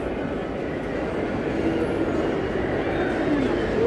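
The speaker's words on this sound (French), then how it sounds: "Alors les trains à l'arrivée." Trains arriving at Gare du Nord in Paris rumble steadily through the station, a continuous low roar with faint squeals of wheels and a murmur of voices underneath.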